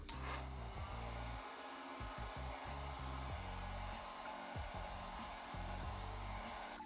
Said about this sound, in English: I need my hair dryer and I'll put it on